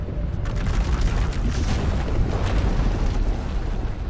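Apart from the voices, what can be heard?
power eruption explosion in Star Wars: The Old Republic video game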